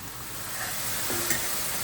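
Egg masala fries in a pan with a steady, close hiss of sizzling oil and faint stirring or scraping under it.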